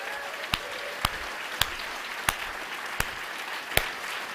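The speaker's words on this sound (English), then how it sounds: "Another round of applause for Ben Habib." At a Reform UK spring rally, a handful of sharp, separate claps ring out at a slow, uneven pace over a steady wash of crowd noise in a large hall.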